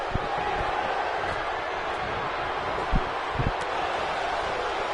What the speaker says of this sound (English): I think they're cheering for Lucha Dragons side here.